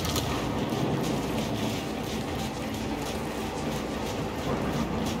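A rocket train on a turntable in Gears 5 gives a continuous heavy rumble of rail machinery, dense and steady with faint clattering, near and fairly loud throughout.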